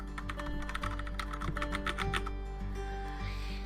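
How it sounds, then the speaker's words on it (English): Number keys pressed on a computer keyboard for PC game True Game Tycoon, a quick run of close, crisp clicks over a steady low hum, no talk. "I am currently pressing the number keys."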